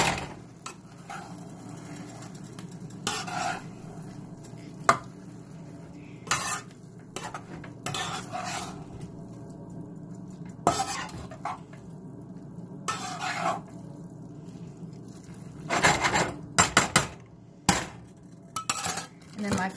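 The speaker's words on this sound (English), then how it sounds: "Stir that all together" Food stirred in a pan with a utensil, giving repeated scraping clinks and taps against the metal in irregular bursts over a low background sizzle, close by and without speech.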